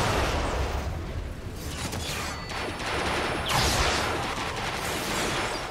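Autobots open fire in Transformers: Rise of the Dark Spark, a dense, continuous barrage of loud blasts and crashing impacts that runs steadily through the whole stretch, with a brief lull partway and then a sharp renewed burst.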